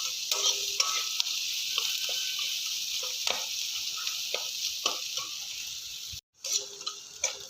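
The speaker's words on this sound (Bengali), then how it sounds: "তাই জন্য হলুদটা এখন দিয়ে একটু পেঁয়াজের সাথে একটু ভেজে নেব" Turmeric and onions fry together in a pan for poha, with a steady sizzle broken by frequent spoon scrapes and taps against the pan, close and clear.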